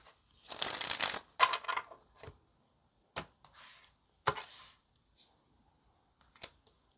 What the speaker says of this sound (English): Let's get one more good shuffle, and then we'll put the tarot out